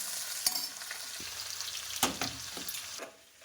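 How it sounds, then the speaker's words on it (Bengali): Onion frying lightly in a pan, a steady soft sizzle with a few sharp stirring scrapes and clicks of a utensil, close by, and the hiss fades near the end. "চলো পেঁয়াজটা হালকা করে একটু ভেজে নিয়ে আসি"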